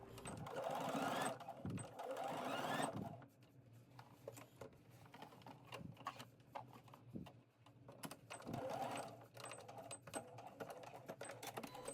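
A sewing machine stitches a rectangle around the edge of a summer dress's back bodice to secure the tie. A steady close whirring run gives way to quieter pauses, then another short burst of stitching.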